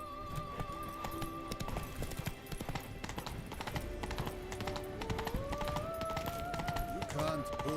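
Horse hooves clip-clop in a steady galloping rhythm in Witcher 3: Blood and Wine, set in Toussaint, running continuously under game music with someone talking over it.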